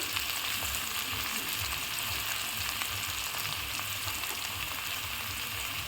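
Chopped garlic, ginger and whole garlic frying in a pan for tadka give off a steady, moderately soft sizzle that holds unchanged throughout, with no talking.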